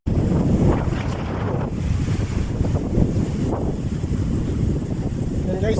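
A homemade stand fan on its lowest speed pushes air straight at the microphone, making loud, continuous, blustery wind buffeting with uneven surges.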